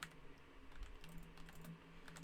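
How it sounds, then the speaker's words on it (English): Rapid clicking of typing on a computer keyboard during a podcast, soft and steady with irregular key taps, faint and fairly close, with no talking. "let me type"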